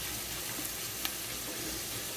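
Chopped garlic sizzling in a pot as the base for Mexican meatball soup, a steady, even hiss throughout, with one faint clink partway through.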